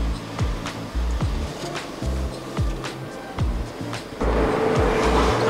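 Car pulling away from a railway station on a drive toward an island, heard as a steady rumbling engine and road noise with repeated low thumps and bumps, growing louder and rougher near the end.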